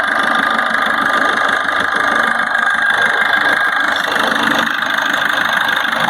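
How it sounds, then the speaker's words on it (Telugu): A 2018 Maruti Suzuki Swift diesel engine idles steadily and close, a continuous even rumble with a faint knocking texture throughout, with no voices. "ఆయిల్ కొట్టడం కానీ స్మోక్ రావడం కానీ ఏం లేదు. చాలా స్మూత్గా ఉంది ఇంజన్."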